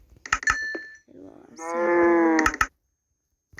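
A cow moos in the Minecraft video game, one drawn-out, loud synthetic low call lasting about a second, surrounded by sharp clicky game sounds and brief bits of a voice.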